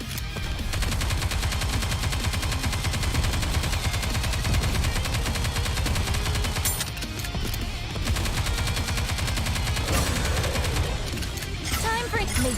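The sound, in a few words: gunfire from the video game Nikke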